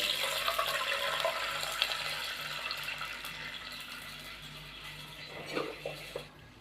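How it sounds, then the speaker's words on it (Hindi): A glass of water poured into warm desi ghee in a pan, giving a soft, steady splashing rush that runs for several seconds and fades out near the end, faint and close with no talking. "अब मैं इसके अंदर 1 गिलास पानी का शामिल करूँगा।"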